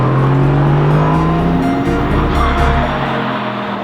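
A Mercedes-AMG GT C Roadster engine roars loudly up close, revving with a rising, aggressive pitch before easing slightly toward the end.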